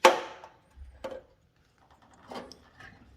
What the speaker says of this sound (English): I'm using a tiny hammer just to make sure that we don't scratch the car